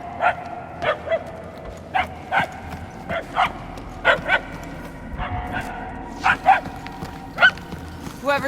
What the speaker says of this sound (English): Whoever's barking must be close.